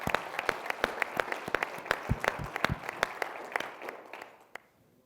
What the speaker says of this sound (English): if we can give everyone a round of applause